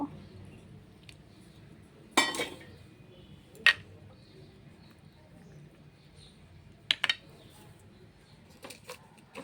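Ground coriander, cumin, turmeric, chilli powder, grated ginger and green chillies are stirred with water in a bowl, giving a few sparse, faint clinks of a spoon against the bowl over a quiet kitchen background.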